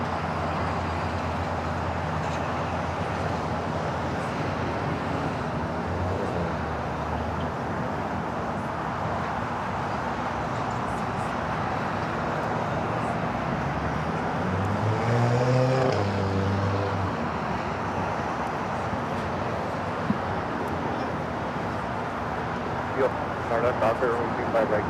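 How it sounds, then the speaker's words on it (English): A British Airways Boeing 777 taxis at Los Angeles International Airport, a distant continuous jet-engine whine and rumble under steady talk, swelling briefly near the middle of the clip. "the British Airways 777 now starting its taxi"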